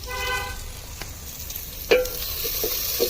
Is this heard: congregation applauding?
no